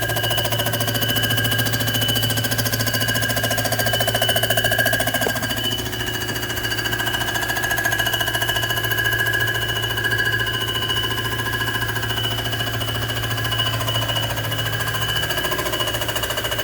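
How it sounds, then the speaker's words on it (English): Milling machine surfacing Mopar 452 cylinder heads, a loud continuous rapid chattering cut with a steady hum and whine, close and unbroken throughout with no talk. "I'll mill a little more off and I'll come back."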